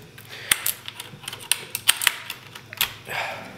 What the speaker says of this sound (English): the DOS keyboard cherry blue is a little bit clickier than the Blackwidow's